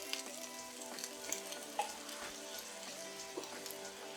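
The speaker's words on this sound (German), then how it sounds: "Nun gieße ich die Sahne in die Pfanne." Cream is poured into a pan of frying ham and onions and sizzles quietly, with soft crackles and faint stirring scrapes.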